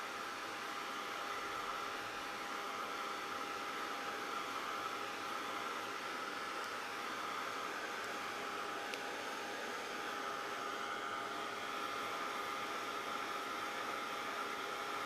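A hair dryer blows steadily and close for the whole stretch, drying a mixed media shabby chic craft heart, with an even whooshing hiss and no talking.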